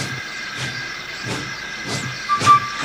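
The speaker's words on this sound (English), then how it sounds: "the driver pulled the lever, and Edward puffed away" Rhythmic puffs of a steam locomotive chuff at a steady pace over a continuous hiss, with a faint whistle-like tone near the end.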